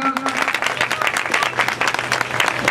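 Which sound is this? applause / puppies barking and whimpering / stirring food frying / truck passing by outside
applause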